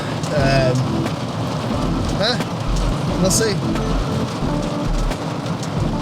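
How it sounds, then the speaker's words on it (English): Steady heavy rain pours in Barcelona, Spain, a dense hiss with occasional louder spatters, while a person speaks briefly over it. "that's why it's raining so heavily still"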